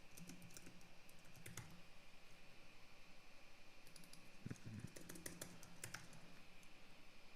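Keys on a computer keyboard are typed in quick irregular bursts with short pauses, close and fairly quiet over a faint steady background hum.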